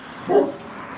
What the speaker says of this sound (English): Guard dog on duty.